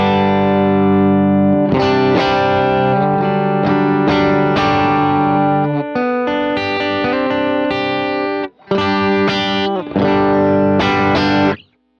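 A single coil electric guitar run through a compressor pedal plays sustained, even chords and picked notes, loud and close, with two short breaks, and a brief spoken word near the start.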